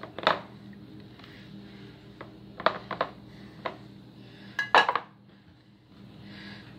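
Hot glass canning jars, just sterilized in boiling water, clink and knock against each other and a hard surface in several sharp, separate bursts, close by in a quiet kitchen while chicken is being canned.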